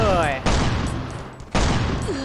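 Gunfire from the survival video game Last Island of Survival: two loud, sharp broadband bursts of shots, each followed by a decaying rumble. Game sound effects and chatter sit under them, and a voice is faintly present.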